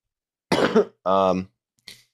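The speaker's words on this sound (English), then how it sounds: "Battling that cough, though." Two short coughing bursts from someone still recovering from an illness, close to the mic, the second longer and more voiced, followed by a faint breathy exhale.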